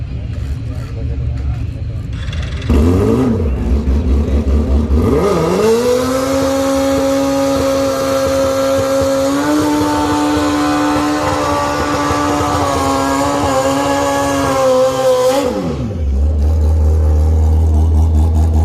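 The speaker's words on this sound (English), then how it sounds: "Now look, Dylan, that's drag racing for you, right?" A drag racing car roars down the track, its engine note climbing in pitch and then holding as a loud, sustained drone for about ten seconds before cutting off sharply.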